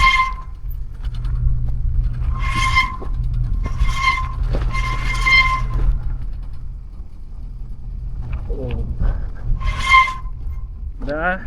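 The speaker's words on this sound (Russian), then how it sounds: "Да, тормоза прям самое то для отпугивания медведей." Bicycle brakes squeal in high, piercing bursts, several in a row and then another later, over a low steady rumble while cycling the road from Yakutsk to Magadan.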